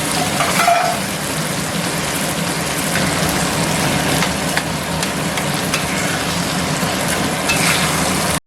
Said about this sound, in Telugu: ఇవన్నీ కూడా లో ఫ్లేమ్లో పెట్టుకుని కలిపేసుకోవాలి.